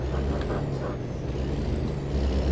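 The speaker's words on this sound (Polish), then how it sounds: "Hamulce!" A heavy truck engine in the video game American Truck Simulator rumbles loudly and steadily, with brief hissing bursts of air brakes.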